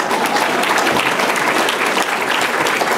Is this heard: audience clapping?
yes